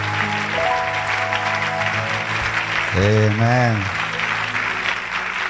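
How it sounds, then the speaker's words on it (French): A church congregation at a worship service claps steadily throughout, a dense wash of applause, while a voice calls out briefly midway over it. "Nous acclamons le Seigneur"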